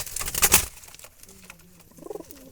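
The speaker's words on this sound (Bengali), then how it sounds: "একেবারে জঙ্গলি জালালি বুনো কবুতর এগুলো" Soft wild jalali pigeon coos, a low drawn-out call followed by a brief rolling coo, after a short burst of rustling noise at the start.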